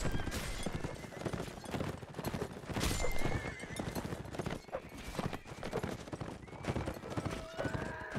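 Horses in a multiplayer battle video game whinnying repeatedly over a dense, continuous clatter of galloping hooves, with scattered clashes and distant shots mixed into the chaos.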